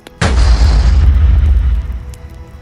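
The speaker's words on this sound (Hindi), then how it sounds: "और तभी एक जोरदार धमाका हुआ।" A single loud, close boom erupts suddenly, followed by a deep rumbling decay that fades over about two seconds.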